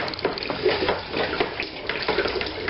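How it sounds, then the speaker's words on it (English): Water pours and splashes steadily into a brewing vessel to aerate the wort, a close, continuous gushing with bubbly splashes and no talk. "We're going to give it a good splash while we go and help to get some air in there, some oxygen."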